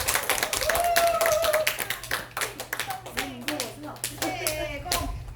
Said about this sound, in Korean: 저희 박수 한번